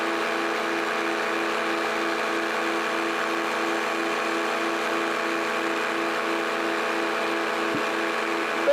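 A paramotor engine running at steady throttle during powered paragliding flight, a loud continuous buzzing drone with a constant pitch and a faint rhythmic pulse throughout, with no talking.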